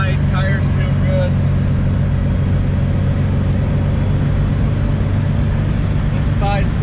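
A 1976 MG MGB with a 5-speed transmission cruises at about 60 mph near 2,200–2,500 RPM, its engine and road noise a steady loud drone heard from inside the car.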